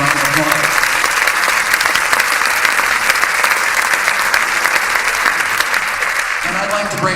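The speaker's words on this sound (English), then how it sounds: "Give them a round of applause." A full round of applause from the audience at the Iowa Rock Hall of Fame awards ceremony, loud and sustained dense clapping with some voices mixed underneath.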